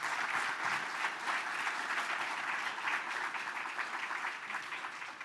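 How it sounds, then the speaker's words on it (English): Audience at a Veterans Day recognition event applauding a speaker, steady dense clapping filling the room throughout and tapering slightly at the end. "Applause to her"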